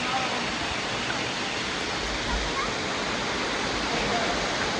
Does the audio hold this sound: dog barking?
no